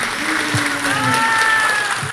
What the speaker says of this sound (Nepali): जोरदार ताली दिउँ।